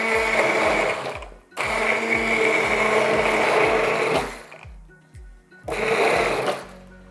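A blender blitzing chicken and vegetable soup whirs loudly in short bursts, with three pulses separated by brief pauses, close and alone without talk.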